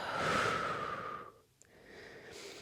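A long, deep breath out through the nose and mouth during a beginner yoga flow, close and airy. A short pause follows, then a quieter breath begins.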